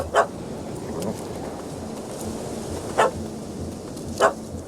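A puppy in The Witcher 3 gives three short, sharp barks spaced apart, moderately close over a steady outdoor ambience with faint rain-like hiss and no speech.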